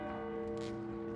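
Church bells ring out across Quebec at a COVID-19 memorial, a sustained resonant tone with a steady hum of overtones, fairly soft and held throughout the short stretch.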